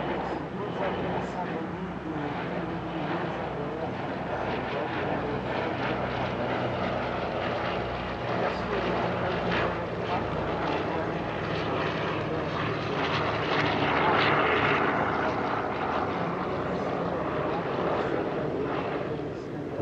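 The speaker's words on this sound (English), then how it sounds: "the most famous and consequential military transport aircraft of all time, the C-47 Dakota" C-47 Dakota propeller transport aircraft droning continuously at the Paris-Villaroche airshow, a steady loud engine roar that swells slightly midway, with a commentator's voice over it.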